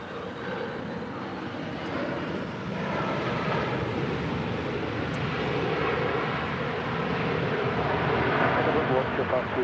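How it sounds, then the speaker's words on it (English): A 14-year-old Alaska Airlines Boeing 737-800 arriving at LAX makes a broad, steady roar that swells slightly over the span, heard at a distance like rushing wind. "That arrival was Alaska Airlines 1215 coming in from San Jose, Costa Rica on a 14-year-old 737-800."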